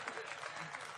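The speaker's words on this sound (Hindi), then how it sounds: "तालियां कमजोर है आपकी।" Faint, brief applause from the audience at a Hindi comedy poetry gathering (hasya kavi sammelan), a soft, steady patter of many hands lasting only a moment.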